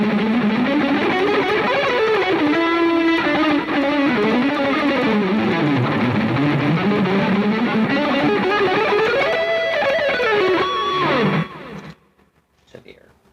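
Electric guitar power chords strummed on a different pickup position, sustained distorted chords sliding between shapes for about eleven seconds, loud and close, then cutting off into near silence.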